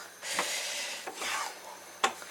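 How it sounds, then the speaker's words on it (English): A mixture is stirred in a pot during home cooking, with a spoon scraping and rubbing against the pot in a few separate sweeps, close and fairly quiet, with no talking. "you've got to keep stirring, otherwise the bottom bit is going to burn"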